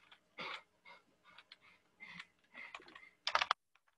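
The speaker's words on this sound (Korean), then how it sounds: "키보드 입력을 하세요." Someone types on a computer keyboard during a Python programming lesson, with quiet, close, irregular bursts of key clicks separated by short pauses and ending in a sharper flurry.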